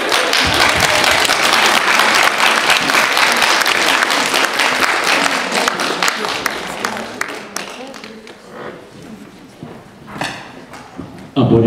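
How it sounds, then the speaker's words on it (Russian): Audience applause fills a graduation ceremony hall, loud and dense with rapid clapping that gradually thins and fades toward the end, then swells briefly again. "Аплодисменты, дорогие друзья."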